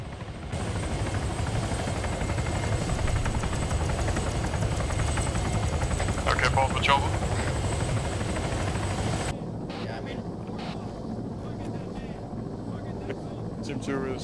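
Helicopter rotor noise from a video game, a loud continuous drone with wind-like rush that cuts back to a quieter level partway through, with game voices speaking over it.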